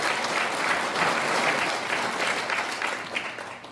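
Steady applause from an audience at a Korean commemorative ceremony for the Provisional Government anniversary, sustained and dense throughout, easing slightly at the end, with no talking over it.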